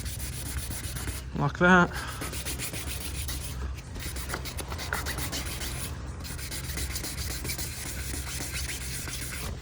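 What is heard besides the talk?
wet sanding new car paint by hand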